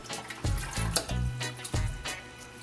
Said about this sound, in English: Now we start scooping the dirty water out.